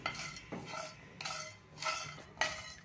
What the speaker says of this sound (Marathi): हे खडे मसाले फ्राय पॅन चांगलं गरम झाल्यावर आपण घातलेत भाजायला.